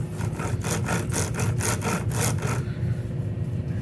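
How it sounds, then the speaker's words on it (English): A Craftsman chainsaw runs steadily, a buzzing rasp with rhythmic pulses like cutting strokes, close and fairly loud, then settles to a lower idle-like drone near the end with no talk. "And there you have chainsaw."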